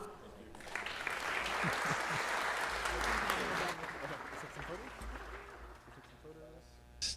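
A crowd at a Los Angeles city council meeting applauds a championship team with sustained clapping for a few seconds before it tapers off, while a voice speaks over it and a second short burst follows.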